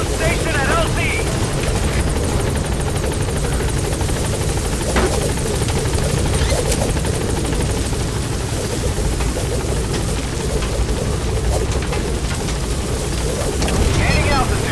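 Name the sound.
helicopter flying in video game Metal Gear Solid V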